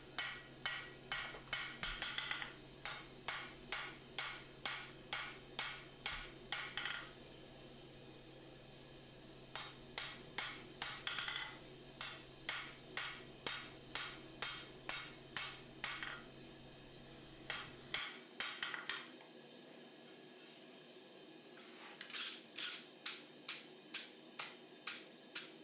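Light hammer blows ring out on hot steel while forging a quillon dagger, coming in quick bursts of clinking strikes with brief pauses between groups, steady and moderately loud throughout.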